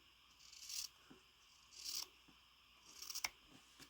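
Fabric from a quilt block being trimmed close up, three short snipping cuts spaced about a second apart, quiet and crisp against a hushed background.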